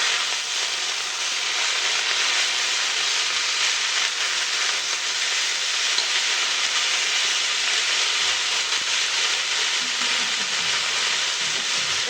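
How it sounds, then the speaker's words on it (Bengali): Banana flower and potatoes frying in oil with tempered spices in a home kitchen, a steady loud sizzle and crackle that runs unbroken for the whole stretch, with a faint stirring scrape near the end and no voices. "ফোড়নটা ভাজা হয়ে গেছে এবার এই মোচাটা করে আলু দিয়ে দিয়েছি"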